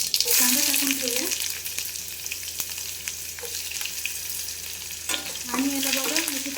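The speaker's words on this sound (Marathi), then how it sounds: "आणि याला बघा अशी छानपैकी परतून घ्यायचं" Chopped onion sautéing in oil with cumin and mustard seeds in a kadhai, giving a continuous close sizzle with occasional stirring scrapes and a few soft pops, under a faint background hum.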